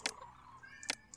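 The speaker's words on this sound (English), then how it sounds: "You guys can probably hear my cat in the background." A house cat meows in the background, two or three short distinct meows at a modest distance.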